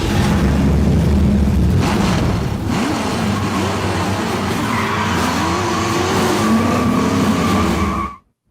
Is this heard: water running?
no